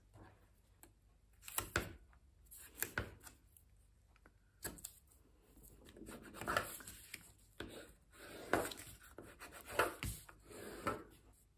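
Tape pulled and pressed onto the tabs of heavy paper, a series of quiet rubbing, rasping and sticky tearing strokes close by, with several sharper bursts and steady smoothing in between.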